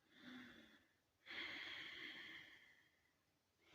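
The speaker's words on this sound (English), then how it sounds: "it's simply a slight restriction in the throat that causes a slightly audible sound" Ujjayi breathing in a yoga class, made with a slight constriction of the throat: two soft, airy, hissing breaths, a shorter one followed by a longer and stronger one, heard close with no talking.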